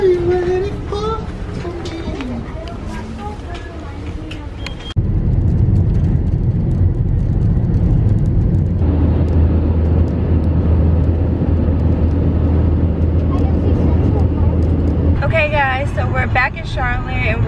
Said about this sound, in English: we're on the way driving home